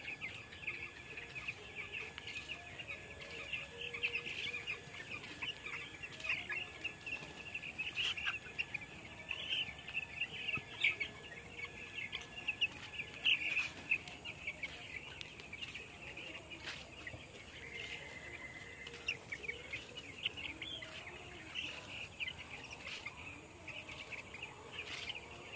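Broiler chicks on a poultry farm in Assam peep in a faint, continuous chorus of high chirps, steady and somewhat distant, with no talk.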